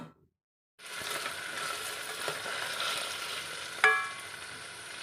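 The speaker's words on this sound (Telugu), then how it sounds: "ఈ ఆలుగడ్డ, క్యారెట్ని వేసి వేయించుకోండి" Diced potato and carrot frying in a pan after a brief silence, a steady moderate sizzle with faint stirring, one sharper clatter near the end, no talk.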